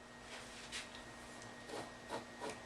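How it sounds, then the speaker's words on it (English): A brush sweeps through cut fur along a fursuit seam, producing soft, close scratchy strokes, a handful of brief rasping passes repeated at a steady rhythm over a faint electrical hum. "I'm just going to brush it out, and that's going to stick to the brush more than it will"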